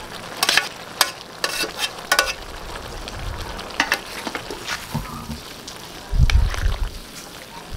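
Pancit noodles tipped into a pot of cooked cabbage and carrots, with scraping stir strokes and a low sloshing thump near the end, close and moderately loud with no talk.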